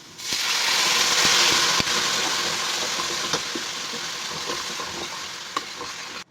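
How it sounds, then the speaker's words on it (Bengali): Water poured into a hot pan of frying garlic for a garlic chicken gravy, a loud hissing sizzle that flares at once and slowly settles, with faint clinks of stirring. "এবার জল ঢেলে দিলাম।"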